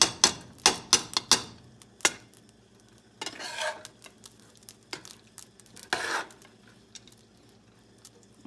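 A spoon stirs food in a pot on medium heat beside boiling rice water, giving several sharp metallic clinks and scrapes followed by sparse, softer stirring knocks.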